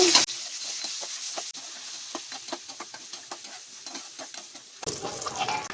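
Cashews, asafoetida, curry leaves and garlic crackling in hot oil as tempering for sambar rice, a loud sizzle with rapid rhythmic stirring scrapes, then a sharp burst of fresh hissing near the end.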